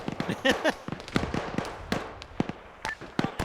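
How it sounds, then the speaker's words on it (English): Mortar shells exploding in a military video game, a rapid series of sharp, loud blasts and cracks scattered across a few seconds, with short bursts of voice between them. "Mortars are incoming."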